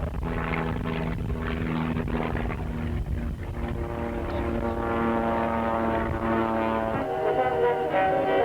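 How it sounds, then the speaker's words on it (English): An aerobatic propeller airplane performs a knife-edge pass and an outside turn over the field at the 1983 Point Cook RAAF 80th Anniversary air show, its engine a loud, steady drone with shifting pitch throughout. "Knife edge pass over the field. And an outside turn."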